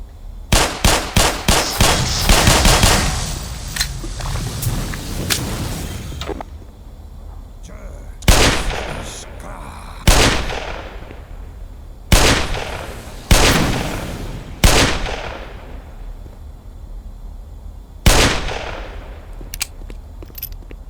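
Gunfire in the video game Black Mesa, a Half-Life remake: a rapid burst of loud shots at the start, then single heavy blasts spaced a second or two apart, each with a short ringing tail.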